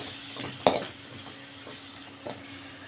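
Tomato puree with half a spoon of ginger fries in a pan for a bachelor-style egg curry. A faint sizzle runs under a sharp spoon clink against the pan and a softer scrape later, with no talking.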